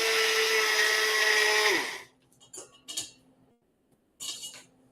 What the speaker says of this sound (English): It says blend the strawberries up in a blender or food processor.